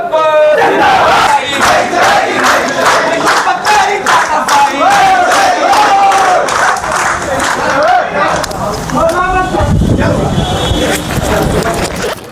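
Students protesting at Gorakhpur University against an order to vacate the hostels chant slogans together in a loud, close, rhythmic call-and-response that goes on throughout.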